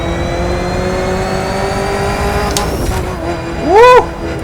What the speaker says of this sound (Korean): 귀를 간지럽히는 머슬카 특유의 배기음까지 완벽하고만